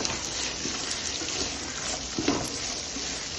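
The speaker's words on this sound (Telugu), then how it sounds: "పొటాటో ఇవన్నీ వేసుకొని ఫ్రై చేసుకోవాలి." Potatoes and mixed vegetables fry in a pan, with cauliflower and capsicum among them. A dense, steady sizzle and hiss holds throughout, close and fairly loud, with a brief clatter near the end.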